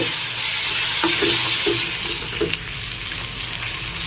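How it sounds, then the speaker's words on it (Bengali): Spice paste with ground coriander being stirred and fried in oil for egg curry: a loud, continuous close sizzle with soft, repeated stirring knocks and scrapes throughout, no talking. "এখন মশলাটাকে ভালো করে তেল ছেড়ে আসা পর্যন্ত কষিয়ে নিতে হবে"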